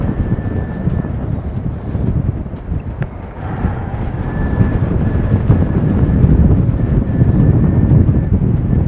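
A Dash 8 turboprop runs on an engine test stand at Nelson airfield, a steady mid-distance drone with a faint tonal whine, under wind noise and a brief click, slowly growing louder.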